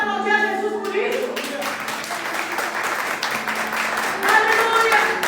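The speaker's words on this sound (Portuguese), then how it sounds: "Será que você pode aplaudir a Jesus por isso?" A church congregation applauds together, steady broadband clapping filling the room throughout, with voices and a speaker heard over it.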